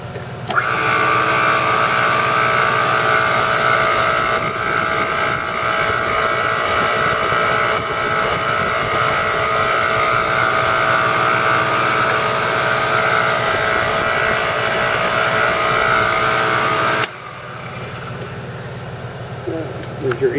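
A JET 275 mm two-speed cold saw runs at high speed, giving a loud, steady motor whine with a broad machine hum for most of the stretch. Near the end it quiets and changes, and a voice can be heard over it.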